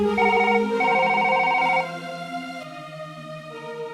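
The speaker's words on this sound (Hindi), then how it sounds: "उसने तुरंत निशित के ऑफिस में फोन लगाया।" Telephone ringing as a sound effect in an audio story, a bright repeating electronic ring in short bursts, with soft music continuing underneath.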